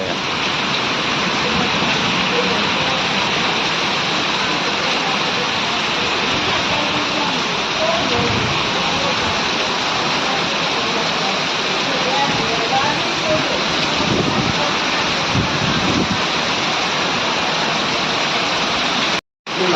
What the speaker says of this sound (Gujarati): ધોધમાર વરસાદ પડી રહ્યો છે પવન સાથે